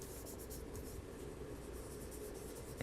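A fountain pen loaded with Diamine Dark Brown ink writing on textured laid paper, a continuous soft close scratching and rubbing of nib on paper with faint rhythmic strokes, quiet and alone.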